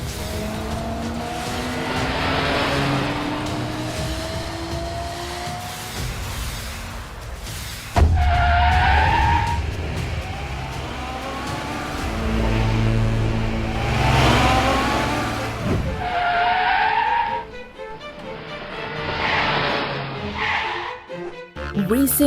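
Cartoon race cars speed and skid along city streets, with engines revving and tires squealing loudly as they pass, while voices talk over the action.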